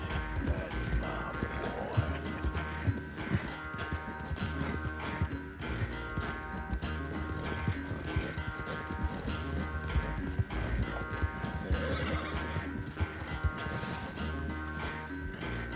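A horse gallops in Red Dead Redemption 2, steady rapid hoofbeats under a continuous music and ambient game bed, moderately loud throughout.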